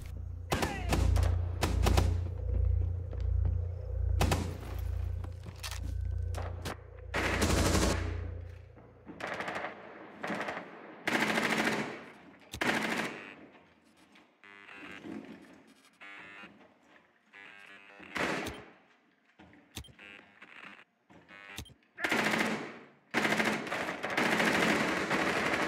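Rapid bursts of gunfire in the video game Rainbow Six Siege, sharp repeated shots in clusters with heavy low thumps early on, loud and close throughout.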